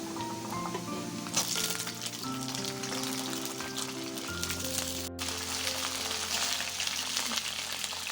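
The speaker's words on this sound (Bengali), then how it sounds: "বিন আর গাজর দিয়ে আরেকটু নেড়ে নিলাম।" Chopped beans and carrots fry in a pan for a mixed vegetable dal, with a steady close sizzle and a few faint stirring scrapes, no talking over it.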